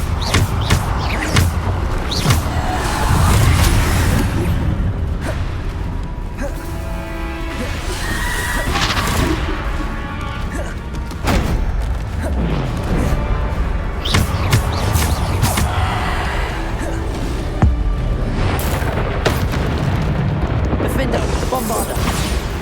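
Repeated Bombarda spell explosions in the Hogwarts Legacy video game, dense booming blasts and crashes layered over continuous loud battle noise and game music, with a voice speaking in between.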